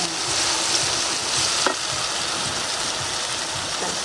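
Ginger-garlic paste spits and sizzles steadily in hot oil in a pan while cooking mixed vegetarian vegetables, a continuous close frying crackle with a brief stir-like clink midway and no talking.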